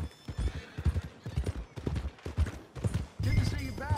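Horse hooves pound in a steady galloping rhythm in Red Dead Redemption 2, close and fairly loud, with someone talking over them and the beat growing busier and louder near the end.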